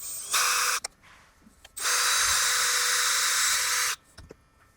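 A power drill boring a hole near a weather strip to mount a sensor, one short loud whine followed by a longer steady drilling burst, close up and without speech.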